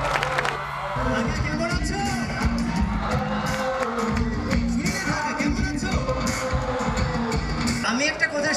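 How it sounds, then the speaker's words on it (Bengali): A hall full of students at a reception for top exam achievers erupts in loud crowd cheering, whoops and shouting, with voices carrying over the sustained roar. "শিখরের জন্য হাততালি দাও জোরে।"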